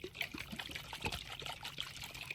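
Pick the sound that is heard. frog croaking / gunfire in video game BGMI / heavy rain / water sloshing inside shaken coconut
water sloshing inside shaken coconut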